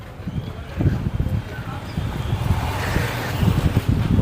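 Wind blowing along a roadside in North India, a steady gusty rumble with light traffic and bustle beneath it, moderately loud and continuous throughout.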